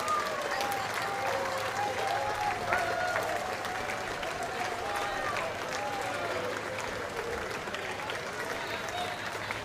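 Steady crowd applause along the route of a small-town 4th of July parade in Waupaca, Wisconsin, clapping continuously throughout with a few voices and cheers mixed in under the din.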